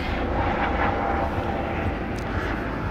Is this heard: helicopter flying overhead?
yes